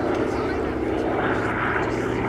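Prototype aircraft, originally built for the Iraqi Air Force, flying a rolling display at Sywell airshow, its engine droning steadily and loud throughout, with a commentator talking over it.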